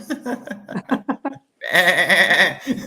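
A short series of quick, choppy bleat-like pulses is followed after a brief pause by a longer, louder wavering bleat, sounding like a sheep or goat.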